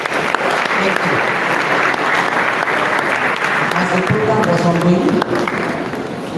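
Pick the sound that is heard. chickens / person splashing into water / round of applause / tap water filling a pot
round of applause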